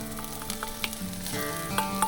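Sliced onion and green onion fry in hot oil in a pan, a constant close sizzle with occasional clicks and scrapes of stirring, and no voices.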